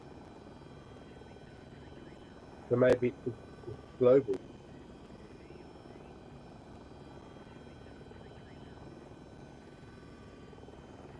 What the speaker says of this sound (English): Because there's a transport helicopter